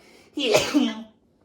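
A single close, loud sneeze bursts out sharply and fades within about a second, with near silence on either side.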